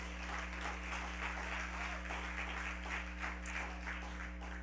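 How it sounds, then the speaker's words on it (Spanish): Congregation applause at a church service, a steady, even wash of many hands clapping, moderately loud and sustained over a constant low hum. "Denle un fuerte aplauso a Jesús."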